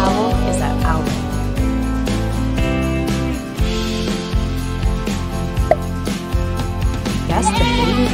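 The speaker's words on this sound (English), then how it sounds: "Guess the baby goat." A goat bleats repeatedly in a baby-animal guessing game, with a loud music bed playing underneath and continuing throughout.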